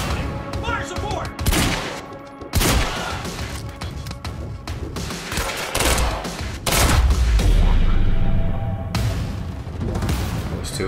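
Rapid gunfire bursts and heavy impacts from the video game Quantum Break fill a combat scene, loud and close, with repeated volleys and booms interrupted by short pauses, while a character shouts over the shooting.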